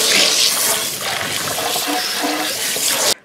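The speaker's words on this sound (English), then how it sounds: "Here comes the hot water." Hot, steamy water pours steadily into an RV gray tank, a loud continuous rushing gush like a filling drain that holds for about three seconds and then cuts off abruptly.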